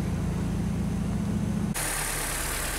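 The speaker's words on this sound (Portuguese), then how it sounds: "Vectrão então aqui já deu partida no motor" A Chevrolet Vectra GLS, under diagnosis for overheating, idles steadily just after starting, a constant low engine hum that shifts to a brighter, more hissing tone partway through, loud and close with no talking.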